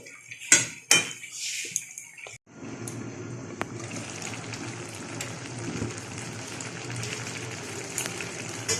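A lid clatters twice onto a cooking pot of leafy greens (shak), then a steady sizzle and simmer carries on beneath it, close and fairly quiet.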